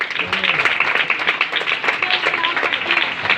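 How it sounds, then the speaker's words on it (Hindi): A church congregation claps for a woman at a Christian gathering, a brisk patter of many hands close by, mixed with voices talking underneath. "सिस्टर फौजिया के लिए एक बार जोरदार तालियां"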